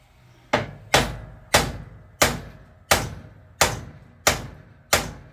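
A very big hammer strikes metal eight times at a steady pace during repair work on a John Deere L130 lawn tractor's spindles and wheel hubs, each blow a loud, close, sharp impact with a brief decaying ring and no talk.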